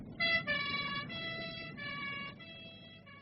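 Two-tone ambulance siren in a radio drama, wailing steadily alone over a low rumble for about three seconds, sounding moderately close with a slight fall-off near the end.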